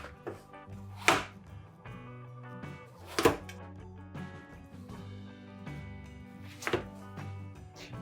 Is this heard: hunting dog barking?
no